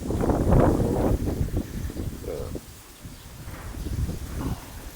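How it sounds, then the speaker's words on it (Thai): Strong wind buffets the microphone in loud, gusty roars that ease briefly midway before rising again, with a faint rustle in the background. "แต่ลมแรงครับผม วันนี้ลมแรงมากครับ"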